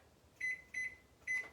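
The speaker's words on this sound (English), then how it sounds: "Let me put the timer on." A kitchen oven timer is set while baking a chocolate pie, giving three short, evenly spaced electronic beeps, moderately loud and alone.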